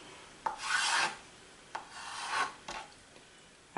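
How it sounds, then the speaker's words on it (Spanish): Quiet slicing of a roasted red pepper into strips: a few soft, drawn-out rasping strokes of a knife against a cutting board, separated by brief pauses, close and faint with no talk. "vamos a cortar el pimiento, lo vamos a cortar a tiras"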